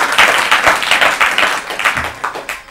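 An audience at an Urdu poetry quiz programme claps in a burst of applause, loud, close and rhythmic, gradually thinning out toward the end, with no talk over it.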